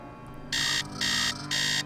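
An electronic alarm clock in a Nancy Drew video game rings in three loud, evenly spaced high-pitched beeps, each lasting about a third of a second, over a faint background hum.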